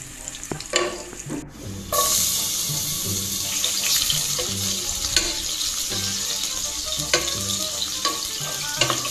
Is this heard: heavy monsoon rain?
no